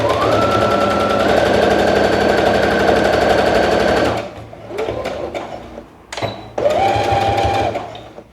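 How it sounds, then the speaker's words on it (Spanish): A sewing machine stitches the center seam of a cork tote bag in a loud, close run of rapid stitching, then stops for handling clicks and a few short bursts of stitching. "vamos a hacer la costura del centro, la que divide ambos bolsillos"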